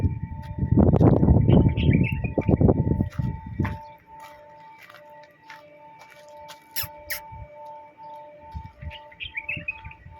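Sparrows chirping around a nest in a big peepal tree in Saudi Arabia, with brief high tweets and squeaks scattered over a steady background hum after a loud rustling burst at the start.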